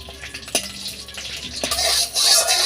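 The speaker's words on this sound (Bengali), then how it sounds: "কড়াইতে 1 চামচ ঘি দিয়ে দিচ্ছি" A spoonful of ghee goes into a kadai to start a semolina sweet: a couple of sharp clinks of a spoon on the metal pan, followed by a soft, steady hiss as it heats.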